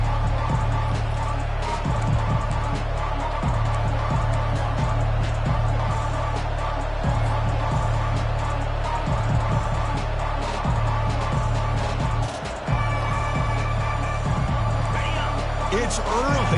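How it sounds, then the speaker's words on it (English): Stadium crowd noise from the EA Sports College Football video game at a TCU matchup early in the game, a loud, steady roar with rhythmic swells, running continuously with a commentator's voice over it. "It's early, but this crowd is fired up. Listen to this noise here."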